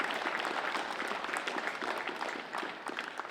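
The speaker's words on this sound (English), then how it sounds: "Give him a round of applause" Audience applause at a women's football Pride Round event, steady dense clapping from a crowd sustained throughout without speech.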